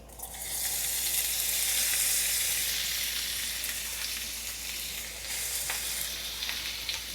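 Onions hit hot desi ghee in a pan and fry with a loud, steady sizzle that holds for several seconds. No one speaks over it.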